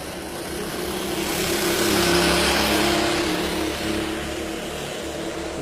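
Racing car engines roar continuously around the Monaco street circuit, a dense, buzzing wall of revving that swells to its loudest midway and then eases a little as the cars pass.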